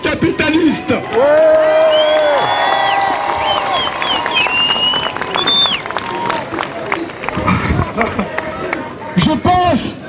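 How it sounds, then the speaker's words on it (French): Crowd cheering and applause at a French political rally, a loud continuous roar of voices with whoops and shouts layered over clapping, close and dense throughout. "je demande un tonnerre d'applaudissements pour le nouveau parti anticapitaliste"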